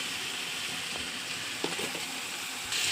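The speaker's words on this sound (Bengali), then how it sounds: "এটা ভালো করে আমি কষিয়ে নেবো" Soybean chunks and curd sautéing in a pan, a steady soft sizzle with faint scraping and stirring clicks near the end, no voices.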